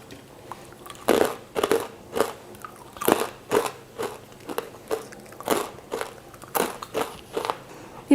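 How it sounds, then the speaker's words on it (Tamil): Crispy pottukadalai murukku, a fried roasted-gram snack, is bitten and chewed close up, giving a run of sharp crunches and crackles roughly every half second, fairly quiet and without any talk. "இப்போ நம்ம முறுக்கு சாப்பிட்டு பார்க்கலாம்."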